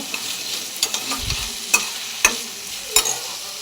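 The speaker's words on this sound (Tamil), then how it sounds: "இப்போ பாருங்கள், தக்காளி வெங்காயமும் நல்லா வதக்கிடுங்க" Onions and tomatoes sauté in a pan for egg gravy, with a soft continuous sizzle broken by several sharp scraping stirs and clacks of a spoon against the pan, close and fairly loud, no voices.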